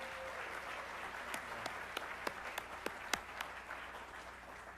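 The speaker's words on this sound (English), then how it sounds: "let's give our faculty and staff another round of applause" An audience at a spring closing meeting applauds faculty and staff, a fairly faint, steady wash of clapping with a few sharper individual claps standing out near the middle.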